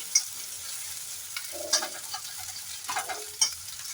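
Garlic and dried red chilies fry in oil for a radish-greens dish, giving a soft crackling sizzle with a few sharp spatula clinks on the pan, close and moderately quiet.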